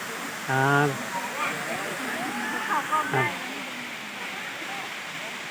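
A steady roar of a waterfall inside a cave fills the background while someone talks over it.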